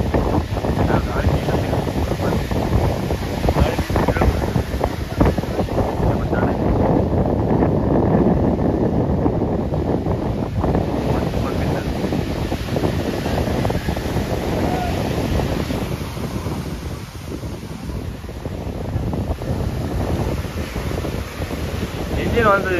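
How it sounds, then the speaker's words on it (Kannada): Wind blows across the sea on an open fishing boat, a loud, constant rumble buffeting the microphone for the whole stretch, with no clear breaks. "ಗಾಳಿ"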